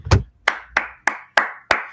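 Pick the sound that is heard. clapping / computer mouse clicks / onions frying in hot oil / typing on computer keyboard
clapping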